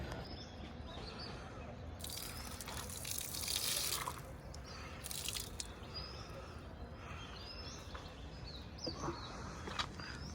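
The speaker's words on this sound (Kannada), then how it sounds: "ನೀರು ಹಾಕತ್ತೇನೆ ಗಿಡಕ್ಕೆ" Water trickles and splashes onto young chili plants in a garden plot, a soft, uneven pour with birds chirping faintly in the background and a voice now and then.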